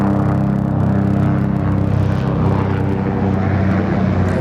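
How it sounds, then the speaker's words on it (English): A loud, continuous helicopter rotor drone overhead near Sydney Airport with a deep rumbling throb, steady and close throughout, no voices. "Helicopter flying overhead, causing all sorts of noise."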